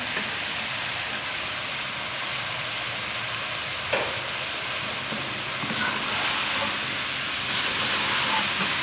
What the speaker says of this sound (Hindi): 2 मिनट के लिए अच्छे से भून लेंगे